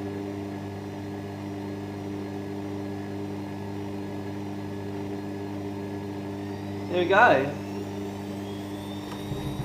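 Bosch Maxx Easycare washing machine in its first spin, a steady humming drone with a slight unbalanced wobble, heard close while a person speaks briefly near the end.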